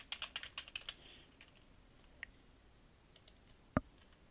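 Computer keyboard being typed on, a quick burst of sharp key clicks followed by a few scattered single taps and one firmer final keystroke, close and quiet with no talk.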